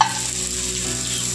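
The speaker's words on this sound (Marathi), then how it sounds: "तेल चांगल्या प्रकारे गरम झालेले आहे। आता त्यामध्ये आपण कांदा टाकून घेऊ।" Onion dropped into well-heated oil for a matar paneer masala, producing a loud, continuous close sizzle and hiss that stays even throughout, with no voices.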